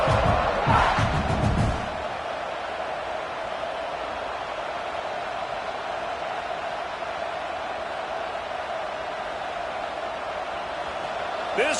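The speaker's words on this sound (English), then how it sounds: "This crowd bringing the energy and noise early" Loud, sustained roar of a stadium crowd at a football game, steady broadband noise with a brief louder burst at the start.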